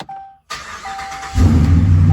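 A Dodge Ram Hemi V8 fitted with a MagnaFlow muffler cranks briefly, then fires up and settles into a loud, steady idle, recorded up close with no one talking.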